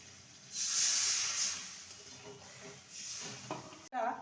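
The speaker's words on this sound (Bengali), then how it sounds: "মশলাটাকে ভালো মতন কষিয়ে নিয়েছি মশলা থেকে তেল রিলিজ হয়ে গেছে এবার মশলা ধোয়া জলটা দিয়ে দেবো" Water poured onto frying spice paste for an eggplant dish bursts into a loud, steady steam hiss that fades slightly before a brief clatter near the end.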